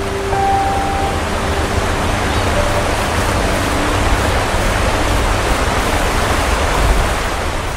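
Mountain streams run down granite slopes in the Serra da Estrela in Portugal, a loud, steady rush of water close by that holds constant throughout, with a faint tonal hum early on.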